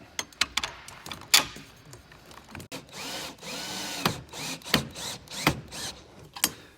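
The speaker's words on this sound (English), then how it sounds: "we're going to use the bolt and nut to secure it" A power tool drives a bolt and nut on a vehicle's upper support arm in a series of sharp, uneven bursts and clacks, some longer whirs between, close and without talk.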